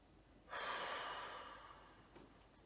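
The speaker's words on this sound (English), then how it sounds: "And one more, breathing in." A single deep inhalation during a yoga breathing exercise, drawn in audibly and close, swelling quickly then tapering off slowly, with no talking over it.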